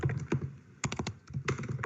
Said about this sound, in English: I can hear you typing viciously